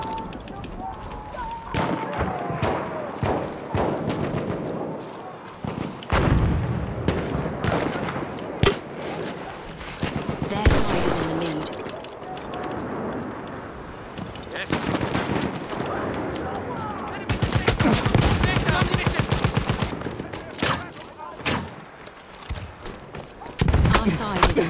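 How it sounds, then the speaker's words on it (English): Machine gun fire in the video game Battlefield 1, with dense bursts of rapid shots and scattered gunfire running through the whole stretch, loud and close, mixed with other battlefield noise and occasional talk. "Machine gun!"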